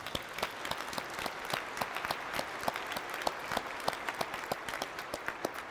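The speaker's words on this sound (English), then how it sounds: "So go ahead, give yourselves another round of applause." Round of applause from a commencement ceremony audience, steady dense clapping throughout with scattered sharper claps standing out, fairly distant and even, no voices on top.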